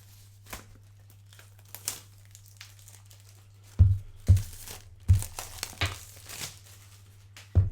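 An Apple Watch SE box is torn open with a pull tab: scattered crinkles, then a run of sharp ripping pulls, close and fairly quiet.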